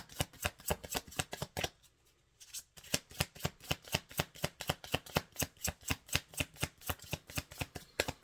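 A deck of tarot cards shuffled in a fast, even rhythm of sharp close-up taps, broken by a brief pause near the middle before the same brisk beat resumes, with no voices.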